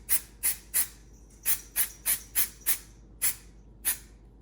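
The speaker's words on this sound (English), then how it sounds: "Now I'm just going to use a little mold release spray" Short hissing puffs from a mold release aerosol can sprayed onto a 3D-printed concrete statue mold, about ten quick sprays in a loose, uneven rhythm, close by with quiet between them.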